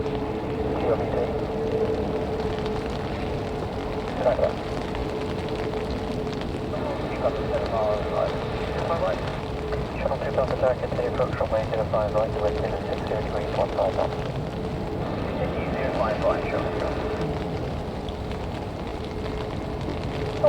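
An Airlink aircraft taxis and turns at the end of a taxiway at Manchester Airport during a storm, its steady engine drone rising slightly as it moves, over a constant rain and wind wash, with voices talking at times.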